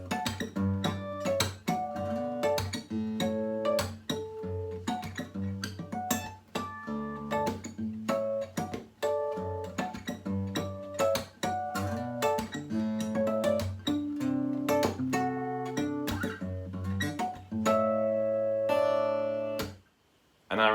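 Solo acoustic guitar playing the main section of an advanced groove in open D, a busy percussive rhythm of strummed chords and bass notes with ringing harmonics near the end, close and steady with no talking.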